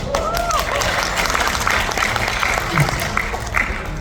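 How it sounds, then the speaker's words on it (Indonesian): Audience applause at a motivational event, a steady wash of clapping sustained throughout with crowd noise and some voices mixed in. "Nah, tepuk tangan."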